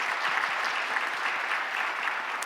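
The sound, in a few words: church congregation applause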